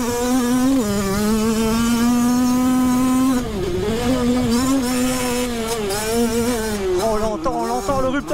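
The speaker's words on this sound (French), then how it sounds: "On l'entend le rupteur." A Derbi 50cc two-stroke moped engine is held high against its rev limiter, a loud, close, buzzing whine that stays pinned at one pitch, then stutters and wavers as the revs bounce.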